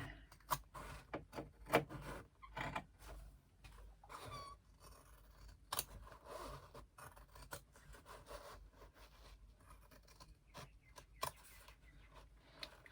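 Scissors cut through fabric in quiet, irregular snips and soft rasping strokes, close by, with no voices.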